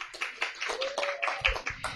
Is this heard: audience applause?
yes